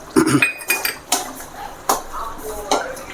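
A spoon stirs garam masala into Bombay chutney in a metal pot, giving several distinct clinks and scrapes at uneven intervals, close and clear with no talking.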